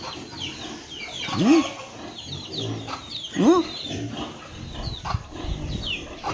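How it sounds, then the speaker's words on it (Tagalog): Chickens clucking and calling at close range, with two prominent rising squawks standing out over a busy barnyard background. "Dami pa siya mga manok"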